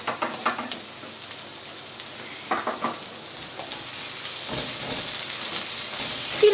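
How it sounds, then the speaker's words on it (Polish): Chopped onion and garlic sizzling in a hot pan, a steady, close crackle with small pops and occasional stirring scrapes, no voices over it. "Do naszej podsmażonej cebulki dodaję czosnek."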